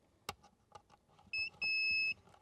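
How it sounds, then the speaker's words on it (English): A Tesla Model 3 power liftgate module beeps on power-up: two clear electronic tones, a short one and then a longer sustained one, sounding after a few faint clicks and handling noises nearby. "if you hear a beep, that's a good sign that you have power and everything is hooked up"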